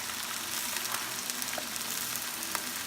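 Soy sauce hits a hot pan while pata tim cooks, producing a steady, close crackling sizzle with scattered pops and no talking.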